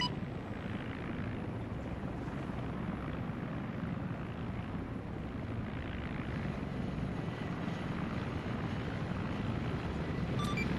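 Steady, continuous rotor and engine drone of an Mi-24 helicopter in the military sim Arma 3, even and unbroken throughout, moderately loud with a low thrumming texture and no voices.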